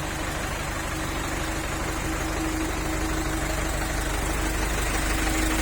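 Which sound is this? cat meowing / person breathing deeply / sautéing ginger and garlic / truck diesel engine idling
truck diesel engine idling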